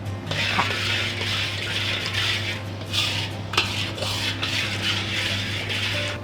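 A pot of sampanni sweet mixture being stirred at a near boil on the stove, with soft scraping and clinking of a utensil against the pot over a constant low hum.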